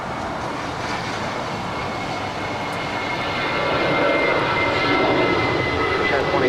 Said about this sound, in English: Got that Japan Airlines Dreamliner taking off there on 24 left.